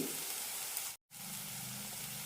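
Turmeric, coriander powder and chili powder sautéing in hot oil in a pan for a soya keema gravy, giving a steady, close, dense sizzle that cuts out briefly to silence before resuming.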